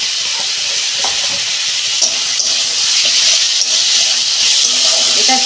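Ginger garlic paste dropped into hot oil in a pan fries with a loud, continuous hiss and sizzle, joined by occasional light scraping of a spoon, close up with no voices.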